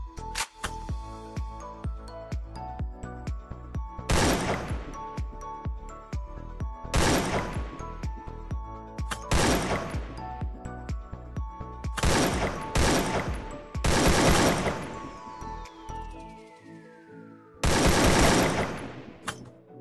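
Repeated bursts of automatic gunfire from weapons in the video game Free Fire, several loud volleys separated by short pauses, with a trailing whine after one burst and no talk.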